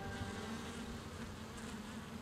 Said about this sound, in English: So these bees are doing real good.